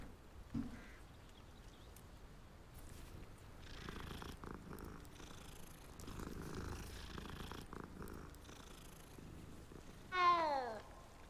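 A cat purrs softly and steadily in the Hogwarts Legacy video game, a low continuous rumble under faint game ambience, ending with a short high meow-like call near the end.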